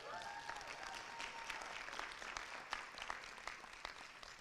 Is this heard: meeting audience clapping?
yes